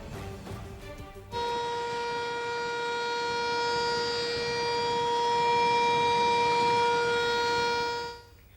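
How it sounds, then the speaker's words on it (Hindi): A civil defense siren wails steadily for several seconds after a brief lead-in of ambient noise, sounding loud and sustained alone before cutting off, sounded as water rose in Nala Lai. "किस तरह से सायरन बजाए जा रहे हैं"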